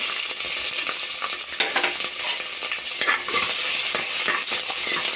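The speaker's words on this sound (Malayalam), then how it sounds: "കടുക് പൊട്ടിയതിന് ശേഷം അതിലേക്ക് ഇഞ്ചി, വെളുത്തുള്ളി കൊത്തിയരിഞ്ഞത് ചേർക്കുക." Steady, dense sizzling of chopped ginger and garlic frying in hot oil after mustard seeds, with occasional scraping stirs and crackles, close and continuous.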